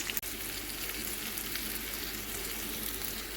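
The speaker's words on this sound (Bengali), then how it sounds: "দিয়ে মশলাটাকে ভালো করে কষিয়ে নেব।" Steady, fairly quiet sizzle of spices and chili powder frying in a pan, a continuous crackling hiss with one brief knock near the start and no talking.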